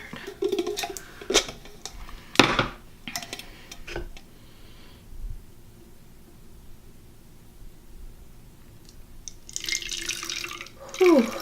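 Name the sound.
filling a Yeti bottle with water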